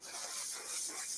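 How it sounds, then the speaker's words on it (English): A can of dulling spray hisses in a continuous, fairly faint airy burst lasting just over a second, close by with no voices. "that's just an ever so slight dulling spray"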